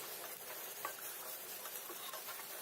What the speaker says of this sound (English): I'm going to add the onions and fry them till they're nice and translucent.